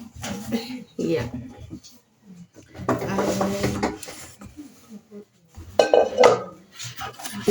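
A cooking pot set with a spatula and serving spoon gets handled, metal clanking and clinking in short bursts up close while people talk over it.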